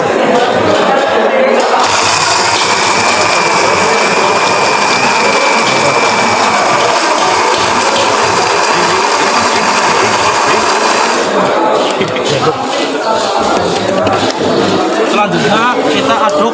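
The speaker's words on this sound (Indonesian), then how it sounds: "Kita blender menggunakan mesin blender" A loud electric blender grinding ginger whirs steadily for several seconds, a continuous motor drone with grinding texture, starting and stopping abruptly amid background noise.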